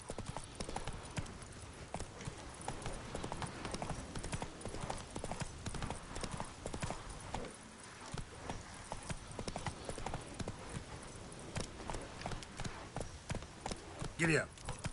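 A horse's hooves clip-clop steadily and rhythmically as the rider travels at pace in the video game Witcher 3, with voices talking over the continuous hoofbeats.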